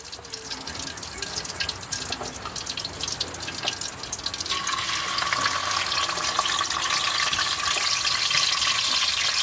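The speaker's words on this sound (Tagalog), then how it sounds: "Ngayon, Ako'y magpiprito na." Food frying in a pot salted to keep it from sticking, a close crackling sizzle that grows louder and denser halfway through, with faint clinks and no talk.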